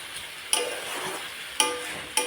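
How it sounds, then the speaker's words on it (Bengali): Eggs and potato pieces sauté together in a hot pan, giving a steady soft sizzle broken by three sharp scraping stirs of a spatula at irregular intervals, close by with no talk. "ডিমগুলোর সাথে আমি আলুটাকে একটু ভালোভাবে কষিয়ে নিই।"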